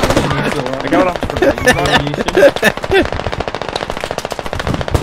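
Rapid bursts of automatic gunfire in a team shooter video game, loud and close, crackling steadily throughout while players talk excitedly over it.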